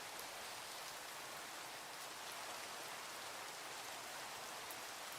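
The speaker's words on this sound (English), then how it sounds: "It's raining." Steady rain falls in the survival video game From The Fog, a dense, even hiss of drops on surfaces that continues without a break.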